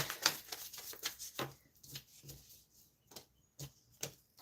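A deck of tarot cards is shuffled by hand, giving a close series of soft, irregular riffling snaps and taps with short pauses between, no voice present.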